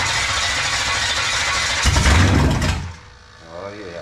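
A car engine with a 2-barrel carburetor cranking and catching on a test run, a loud rough churning that surges and then briefly drops before rising again, close and dominant.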